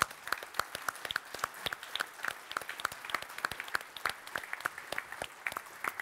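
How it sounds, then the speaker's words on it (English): A conference keynote audience claps steadily, many hands making a dense, lively applause that holds at an even level throughout, with no voices. "Could I get a round of applause for everyone who just stood up?"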